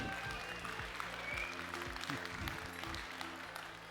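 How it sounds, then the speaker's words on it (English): Audience applause at a science show during the STEM Olympiad grand final award ceremony in Paris, a steady wash of clapping over a low music bed with some voices underneath. "Please clap your hands to Mr."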